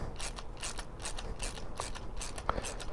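A ratchet tightens the handlebar clamps on a dirt bike with a run of quick, soft clicking strokes at close range, fairly faint against low background noise.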